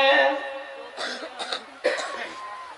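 A listener in the audience at a religious speech coughs several times, a short burst of rough coughs close by, spaced apart over a couple of seconds, with faint voice-like tones at the start.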